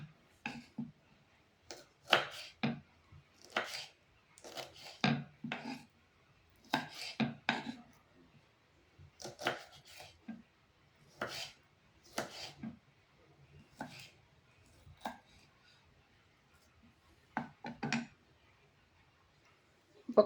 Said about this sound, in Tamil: நல்லா இப்படி நீளமாக சன்னமாக வெட்டிக்கணுங்க.